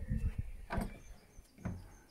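A cottage front door opens with a creak and knock of hardware, then a couple of bumps as it swings and settles, all close by in a quiet entrance hall on the North Norfolk coast at Blakeney.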